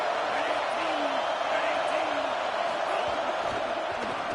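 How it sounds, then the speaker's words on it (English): A stadium crowd at a college football game roars steadily for the defense on third down, a broad sustained din with a commentator talking over it. "Decibels rising as the crowd gets behind this defense on third down"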